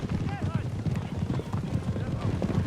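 Cuirassier cavalry horses riding through trees in the battle game Napoleon: Total War, a steady jumble of clip-clopping hooves with a brief neigh, close and busy under a voice talking over it.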